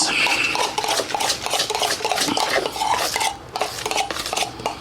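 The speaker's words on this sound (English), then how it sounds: "This is why you use a large mixing bowl. Because already, barely whisking the stuff together, I'm already up on the edges." A whisk beats ingredients in a large mixing bowl with a fast, continuous scraping and clinking rhythm against the sides, loud and close with no talk.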